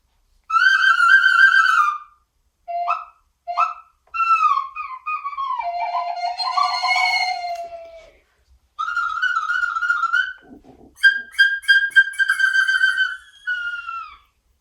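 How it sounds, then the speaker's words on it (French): Shrill whistling tones from a recorder head joint played alone come in short phrases with slides and quick trills, like birdsong, clear and close with pauses between bursts. "Voilà déjà ce qu'on peut faire juste avec une tête de flûte."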